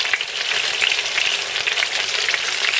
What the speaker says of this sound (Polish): I teraz obracam i smażę dalej.